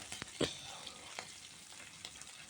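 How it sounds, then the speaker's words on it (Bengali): Panch phoron spices frying gently in a pan for a mixed vegetable dish with peas and prawns, a faint low sizzle broken by a few soft pops and stirring clicks. "আস্তে আস্তে হচ্ছে আমি একটু লাল করে ভেজে নিচ্ছি পাঁচ ফোড়নটা"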